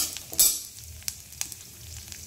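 Coconut and spices roasting in a pan over a medium gas flame for matar paneer make a soft sizzle. Scattered stirring scrapes and taps come through, with one louder scrape near the start.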